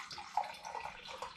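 Passion fruit hard seltzer pours into a glass, a faint, soft trickle and splash with a few small bright drips, close and quiet with no voices.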